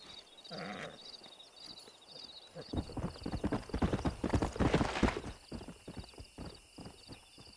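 Horse hooves clip-clop in a quick, building rhythm in Red Dead Redemption, with a brief whinny near the start, loud and close, with ambient game background and no speech.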